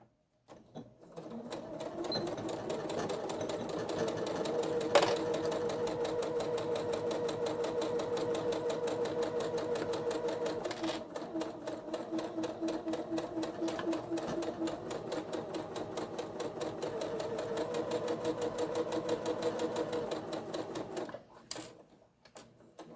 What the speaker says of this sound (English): now you're ready to sew at 1/4 of an inch seam allowance